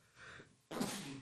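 One sudden, sharp human sneeze bursts out after a brief soft intake of breath, close and loud for a moment.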